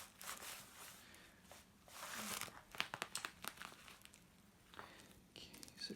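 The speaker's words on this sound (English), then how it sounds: "Okay, so there's, yeah, tape. This is shot. Pink bubble wrap." Tape peeling and pink bubble wrap crinkling as a parcel holding a Hornby Gordon Express brake coach is unwrapped: close, uneven rustles and crackles with sharp tearing bursts and soft crunches, no talk.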